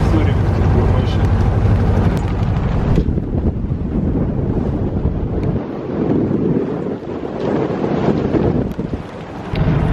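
Strong squall wind batters the microphone aboard a sailboat on the Baltic Sea, a loud, continuous roar and buffeting with waves and water rushing beneath, gusts rising and easing across the whole stretch.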